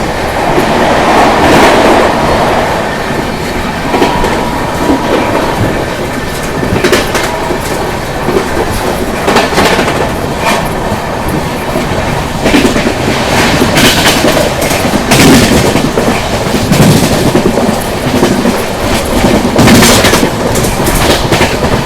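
The Marathwada Sampark Kranti Express (12753) runs at speed, heard from on board as a loud, continuous rumble with rhythmic wheel clatter on the rails and occasional metallic squeals, with no voices.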